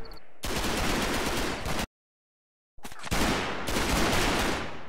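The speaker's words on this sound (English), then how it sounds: "I'm trying to lay down some fire amongst these guys" Sustained bursts of gunfire from the Combat Mission Market Garden battle game, two long dense volleys broken by a sudden gap of silence, loud and close with no talk.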